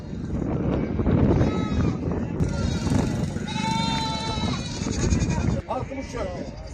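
Sheep and goats, including ewes with lambs, bleat repeatedly at the Maştağa livestock market, several wavering calls near and far over crowd noise, with people talking throughout.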